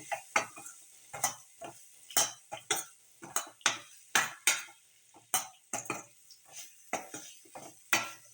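A spatula scrapes and taps against a pan in a steady stirring rhythm, with soft sizzling underneath, as shallots and radish are sautéed with sambar powder.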